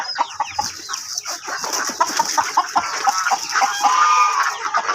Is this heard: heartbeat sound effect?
no